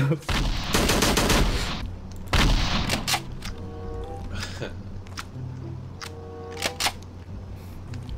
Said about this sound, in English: I only shoot once and I gotta put in like three bullets